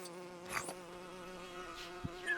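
Bees in the LEGO Lord of the Rings video game, a faint, continuous buzzing hum with a few brief flickers of higher buzz layered over it.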